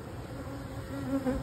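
Honey bees buzz at the entrance of a single brood chamber hive, a dense, close, continuous drone.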